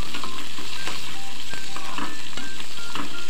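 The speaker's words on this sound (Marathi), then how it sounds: "फोडणी छान एकत्र मिक्स करून परतून घ्यायची आहे" Chopped onion, green chillies and tempering sauté over high flame in a pan for a Marathi potato bhaji, giving a loud, steady sizzle with scraping stir strokes and no talk.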